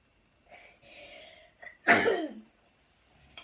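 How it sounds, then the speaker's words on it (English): A single sharp human sneeze, loud and close, preceded by a few faint breaths, with a brief quiet afterward. "I sneezed."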